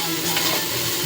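Food sizzles steadily in hot oil in a pan, a close, even, crackling hiss with no voices over it.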